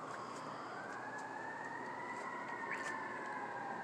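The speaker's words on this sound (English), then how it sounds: "5:50 p.m. and sirens going off." Distant emergency sirens wail in the evening, a rising and falling tone that carries on for several seconds over a steady background hum.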